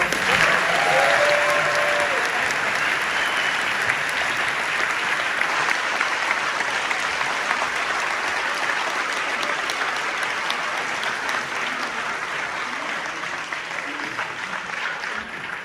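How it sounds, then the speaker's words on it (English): A live audience at a celebratory conversation event bursts into sustained applause, loud and dense clapping from a full crowd that slowly tapers off across the clip. "ladies and gentlemen, let's all give a round of applause"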